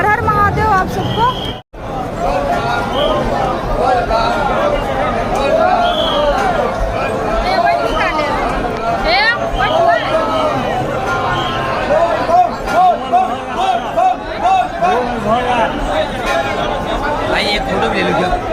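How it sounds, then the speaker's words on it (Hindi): A large, dense crowd fills the Baba Baidyanath Dham temple in Deoghar with continuous loud babble and chatter, many voices overlapping close by without pause. "देख सकते हैं यहाँ पे कितनी जोरों शोरों से पूरा भीड़ लगा हुआ है"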